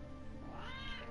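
A single cat meow, faint and slightly rising, heard over steady low background noise.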